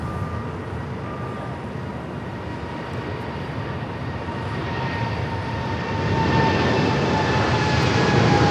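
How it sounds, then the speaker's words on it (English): Korean Air Cargo Boeing 777 freighter taking off from LAX runway 25 left, heavy engine rumble with tonal whine, growing louder toward the end as it rolls and climbs, without talk. "That is Korean Air Cargo 8208 taking off to Seoul on the 777 freighter."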